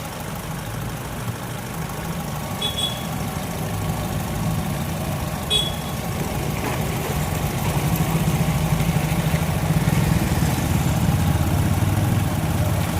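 A 2024 Maruti Suzuki Ertiga seven-seater CNG and petrol car idles steadily, a continuous close engine hum with a low rumble held evenly throughout and no talking.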